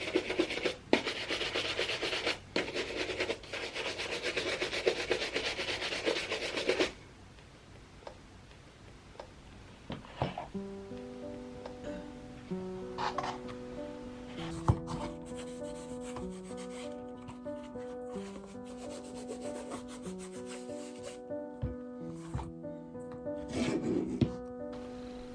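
A brush scrubs a leather brogue shoe to clear away leftover shoe cream. The first few seconds are loud and rough with steady rubbing, followed by quieter intermittent strokes and a light ticking texture.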